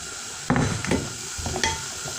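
A pot of fish stew with onions and tomato being stirred, with a few distinct spoon scrapes and knocks over a low simmering hiss, close and moderately loud, with no voices.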